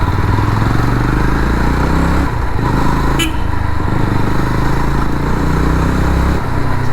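A Jawa 42 FJ 350 motorcycle engine roars loudly and continuously while riding small roads, with shifting revs and a rumbling exhaust note.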